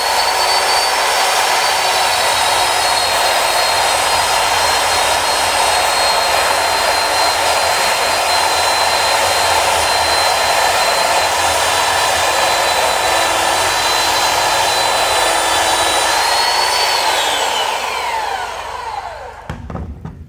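An electric belt sander runs steadily at a loud, close whine with a broadband sanding hiss, then powers down and spins to a stop near the end, no voices.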